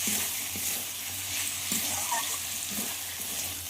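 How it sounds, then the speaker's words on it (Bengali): Chicken pieces frying and sizzling in a spiced masala, a steady hiss with a few soft stirring knocks, fairly close and with no talking. "এবার এই মশলার মধ্যে চিকেনগুলোকে দিয়ে দেব।"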